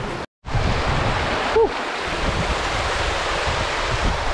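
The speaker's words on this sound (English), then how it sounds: "Pretty good falls coming up." Waterfall on a hiking trail in the Verdugo Mountains, a constant loud rushing roar of falling water close by, with a brief gap near the start and a faint whistle-like tone.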